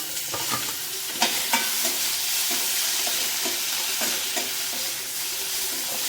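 Tomatoes fry with sautéed onions in a pan, giving a loud, continuous sizzle broken by occasional scraping strokes of a stirring spoon.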